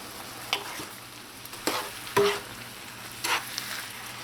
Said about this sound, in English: And now we're going to let this fry up and cook up in here.